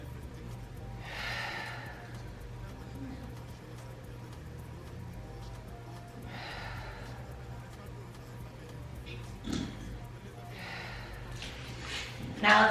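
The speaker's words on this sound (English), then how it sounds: "Now let's bring that breath into the back of our rib cage for some 3D breathing." Slow, deep breaths during a mat pilates exercise, three airy exhale swells spaced several seconds apart over a low steady hum, with a brief louder bump near the end.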